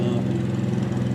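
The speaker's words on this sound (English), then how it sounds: "Lawnmower is too loud." A lawn mower engine drones steadily outdoors, a loud continuous hum with no pauses across the short stretch.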